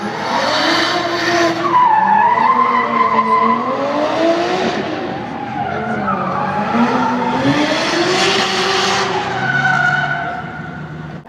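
A Nissan Skyline drifting at a motor show, with loud, sustained tire squeal and engine roar that rise and fall in long sweeping waves for the whole stretch, close by and with no talk over it.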